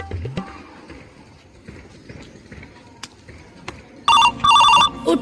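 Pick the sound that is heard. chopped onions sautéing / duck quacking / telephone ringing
telephone ringing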